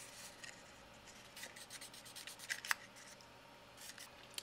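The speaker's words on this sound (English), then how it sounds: "just take our bobbin and some 600 grit sandpaper and just clean up any of those little weird sharp nub sections" A plastic guitar pickup bobbin from a mini humbucker kit is hand-sanded with 600 grit sandpaper: faint, short, scratchy rubbing strokes in quiet surroundings.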